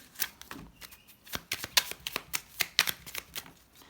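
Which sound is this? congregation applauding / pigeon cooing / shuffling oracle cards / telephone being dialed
shuffling oracle cards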